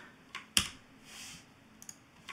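Keyboard shortcut keys are pressed on a computer while working in the Unreal Engine level editor: a few faint, sparse clicks, one sharper tap standing out against a quiet background.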